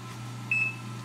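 A single short high electronic beep from a kitchen timer while making mac and cheese, sounding once over a low steady hum.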